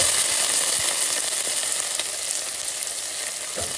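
Tempering seeds and chopped onion sizzle loudly in hot oil in a pan for a curry, a steady, close, crackling hiss with occasional stirring and no talking.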